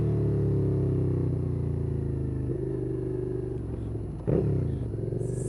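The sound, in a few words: Suzuki SFV650 Gladius V-twin motorcycle engine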